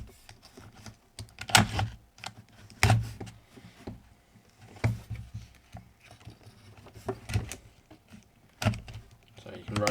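A Milwaukee M12 copper pipe cutter being rotated anticlockwise gives off a string of close, dry clicks and ratcheting ticks in irregular bursts, with a few louder snaps standing out.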